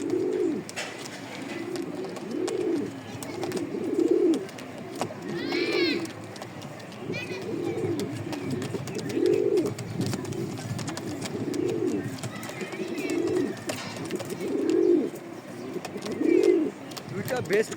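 Racing pigeons coo close by in a steady run of soft, throaty rolling calls repeating every second or two, with someone talking intermittently over them.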